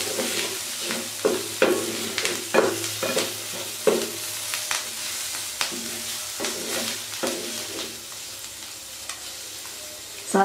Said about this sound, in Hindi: इसको मैं अच्छे से हिला दूंगी।